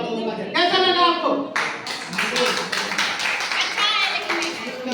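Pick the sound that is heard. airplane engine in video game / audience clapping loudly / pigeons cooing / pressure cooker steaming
audience clapping loudly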